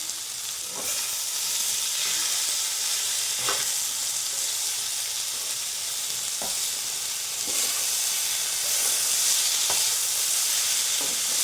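Potatoes and chopped chili fry in a pan with a steady, close sizzle, punctuated every second or two by a soft click of a stirring utensil.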